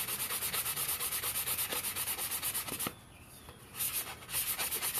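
A cup is sanded by hand with 400 grit sandpaper in quick rhythmic back-and-forth rubbing strokes, close and steady, pausing briefly near the middle before resuming.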